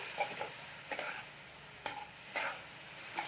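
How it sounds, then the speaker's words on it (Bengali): A spoon stirs a semolina batter with water in a bowl, a handful of soft, irregular scraping strokes, quiet and close, separated by short pauses. "আর ভালো করে এর সাথে মিশিয়ে দিচ্ছি"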